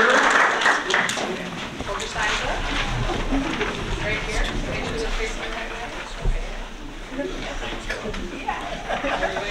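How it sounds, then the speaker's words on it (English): Applause for students at a school board meeting, a steady wash of clapping lasting the whole stretch, with chatter and talk mixed into the crowd noise. "how about one more round of applause for our good friends and our students"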